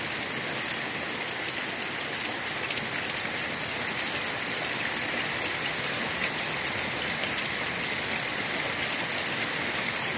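Heavy rain pours down steadily during a storm in Pekin, Illinois, a dense, even hiss of downpour that fills the whole stretch without letup and with no voices.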